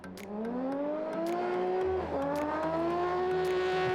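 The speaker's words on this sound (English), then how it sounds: "There's the howl of the internal combustion engine from Jean-Baptiste Dubourg" An internal combustion race car competing in an Andros Trophy ice race in Andorra howls close by, its engine note climbing and dipping through a gear change. The loud, steady roar carries no talk over it.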